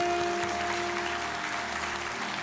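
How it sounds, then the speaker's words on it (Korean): Congregation clapping for the pastor during a Korean Sunday worship service in church: a steady, even wash of applause lasting the whole moment, with no talking over it. "우리 다시 한번 말씀해 주신 우리 오규 목사님께 감사의 박수"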